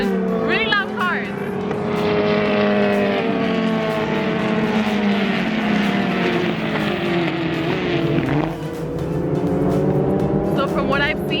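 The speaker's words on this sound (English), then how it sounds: "Hold on, there's really loud cars." Race cars roar past at a track day, their loud, sustained engine drone shifting in pitch, while a person talks over the noise.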